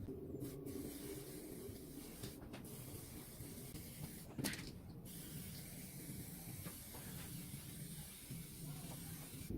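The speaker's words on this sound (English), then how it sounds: "So I'm going to put some clear coat on." Clear coat is sprayed from an aerosol can onto car wheels. A faint, continuous hiss lasts throughout, with a few brief louder spurts near the start and middle.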